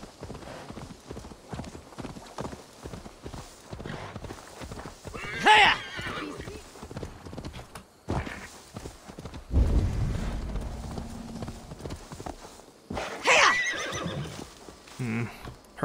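Horses in the video game Assassin's Creed Valhalla whinny in two loud bursts while hooves clop steadily underneath, mixed with game ambience and someone talking over it.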